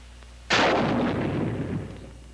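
A bazooka rocket launches in one sudden, loud blast that rolls into a long, fading rumble lasting about two seconds, with no other sounds around it.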